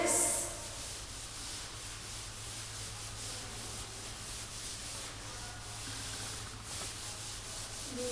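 Rubbing a written exercise clean in a Class 3 EVS lesson, a soft, steady, faint scrubbing that runs continuously under a low background hum, with no talk over it.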